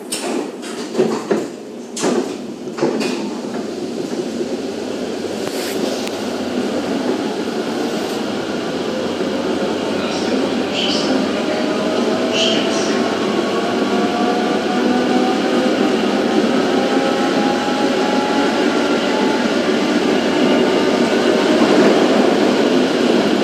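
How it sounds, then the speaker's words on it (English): A modern motorised tram in Poznan rolls along with a steady, loud interior rumble and rising and falling motor whine, with a few clunks and door sounds at the start. "And now get on the next tram, which I call the Two Little Trams"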